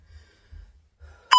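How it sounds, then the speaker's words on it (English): A workout interval timer gives a single bright electronic beep at the very end, loud and close, after a few soft breaths during a boxing fitness session. "On that beep."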